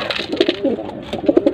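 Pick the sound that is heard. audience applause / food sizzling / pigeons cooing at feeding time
pigeons cooing at feeding time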